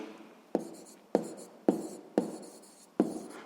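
Pen on paper while writing down a sixth-grade math solution for the area of a circle: five separate bursts of scratchy strokes, each starting with a sharp tap and fading, close and fairly quiet, with no talking.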